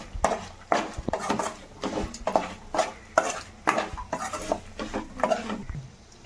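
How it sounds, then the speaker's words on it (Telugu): Fried egg pieces stirred into a spicy egg pickle, a spoon scraping and clanking against the pot in a quick, regular rhythm of sharp scrapes, close and clear with no talking. "ఇప్పుడు మనం ముందుగా ఫ్రై చేసుకున్న ఎగ్ పీసెస్ అయితే వేసేద్దాం."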